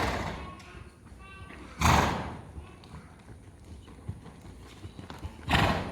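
Horse hoofbeats during a riding lesson as the horse moves into a canter, a soft rhythmic clip-clop with two loud thuds near the start and end, under an instructor's voice.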